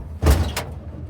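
A pickup truck door clunks open as the driver climbs out, one solid thud followed by a second softer knock, close and loud over a quiet background.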